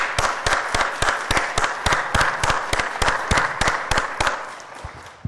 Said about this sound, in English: we need to start off this celebration this afternoon with a nice round of applause for everybody